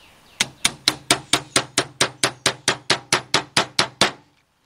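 Fifteen sharp, evenly spaced hammer taps on metal, seating a part over a valve guide in a Volkswagen Beetle cylinder head, quick succession, close and ringing briefly after each strike, then silence.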